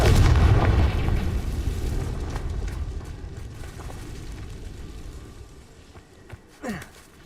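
Confringo spell explosion in Hogwarts Legacy, a loud deep boom at the start that rumbles and slowly fades, followed by a short swooshing effect near the end.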